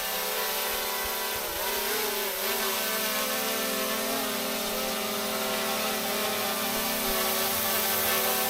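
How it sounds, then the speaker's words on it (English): A drone hovers right beside a person's face, its rotors producing a loud, steady, high-pitched whine that holds constant throughout with no speech over it. "Let me just bring the drone a little bit closer."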